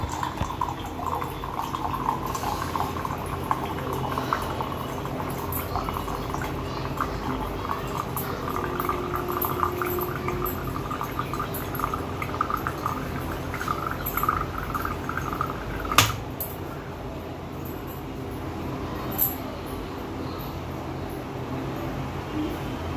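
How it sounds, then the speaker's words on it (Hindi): Water pours into a container at home in India, a steady bubbling, gushing rush that holds for about twenty seconds with a brief louder splash near the end and no voices. "इसमें पानी भरना पड़ेगा"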